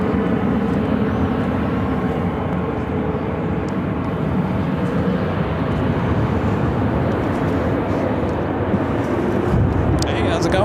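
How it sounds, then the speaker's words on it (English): A converted DHL Boeing 767 approaches Phoenix airport, its steady broadband jet roar filling the air continuously at moderate distance, with a voice talking over it. "See a DHL converted 767 heading our way"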